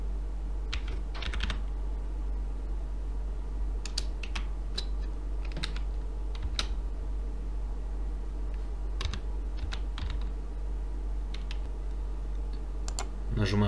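Keys of a computer keyboard tapped in short irregular bursts while entering a login code, crisp nearby clicks over a steady low background hum.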